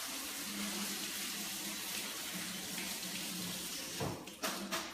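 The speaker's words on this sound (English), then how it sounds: "I'm going to dump that out and just rinse them off." Soaked cashews rinsed under a running kitchen tap, a steady broadband rush of water hitting the sink alone throughout, with a few brief splashy bursts near the end.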